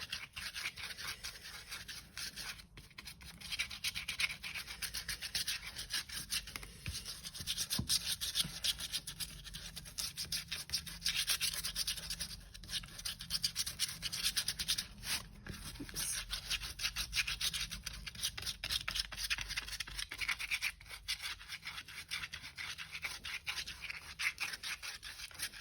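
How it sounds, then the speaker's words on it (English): Glue is spread across fabric for a journal's book cover with a continuous close rubbing and scraping that runs unbroken for about twenty-five seconds at a fairly even level, without speech. "I want to spread this out to try and avoid, you know, lumps of glue coming through the fabric"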